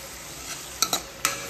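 Onions frying in a pan give a soft continuous sizzle, broken by three sharp scraping clacks of a spoon stirring and mixing, close by and with no speech.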